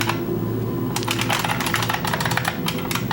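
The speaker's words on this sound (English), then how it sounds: "Hopefully the keyboard isn't too loud." Rapid, steady clacking of a computer keyboard being typed on close to the mic, keystrokes tapping continuously with brief flurries and no voices.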